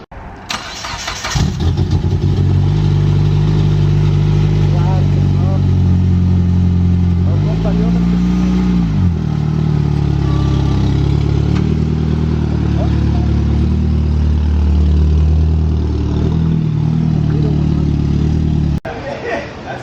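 A Honda Civic Si engine runs loudly and steadily close by, its low rumble shifting in pitch partway through as the car is moved back into the shop on a jumper box, then cutting off near the end.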